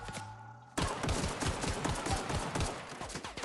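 Rapid gunfire from the video game The Outer Worlds erupts suddenly after a quiet moment, a steady stream of close, punchy shots.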